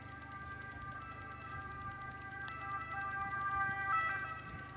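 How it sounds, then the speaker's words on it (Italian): A distant ambulance siren wails faintly over a low background hum in Genoa after a motorway viaduct collapse, its tone rising and falling without any talk. "Sentite l'ambulanza, mettete di soccorso"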